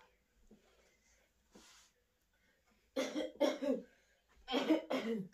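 A person coughs several times in quick bursts, near and fairly loud, after a quiet stretch with a couple of faint throat sounds.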